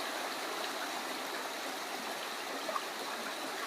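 Flowing stream water rushes steadily past a homemade propeller mounted on bamboo, a close, continuous hiss and gurgle at moderate level with no voices.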